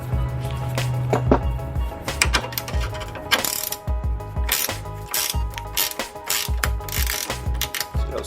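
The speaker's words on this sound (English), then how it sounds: "you can use a ratchet with a 10mm." A ratchet with a 10mm socket clicks in quick repeated bursts while removing the fog light assembly on a 2000–2001 Nissan Maxima, close and loud, with pauses between strokes and metallic handling noises.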